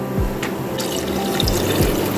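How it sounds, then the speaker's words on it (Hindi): Water poured from a glass into a pot of browned mutton and cauliflower, a steady splashing rush running through the whole short moment, close and fairly loud with no voices. "यहाँ पे मैं पानी का डालूंगी"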